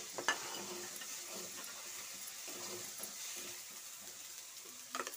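Chicken frying in a kadai with chilli powder, a steady sizzle with scraping stirs and small clatters of the spoon against the pan, close and continuous with no talk.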